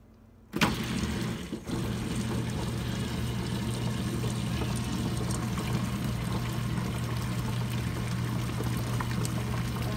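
Water pours steadily into a running grinder grinding urad dal for dosa batter, a continuous rushing splash over a low motor hum, starting abruptly and holding evenly throughout.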